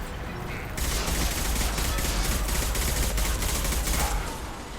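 Heavy weapons gunfire in the video game Mass Effect 2, a dense, loud stretch of rapid shots and blasts that starts abruptly and holds steady before easing.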